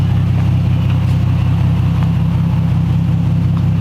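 An Infiniti with a straight-pipe exhaust idles loudly and steadily up close, a deep continuous rumble with a slight rasp and no voices over it.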